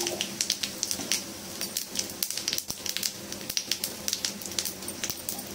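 Dried red chilli, a bay leaf and whole cumin seeds tempering in hot oil for a vegetarian taro curry, a continuous close crackling sizzle with dense irregular pops.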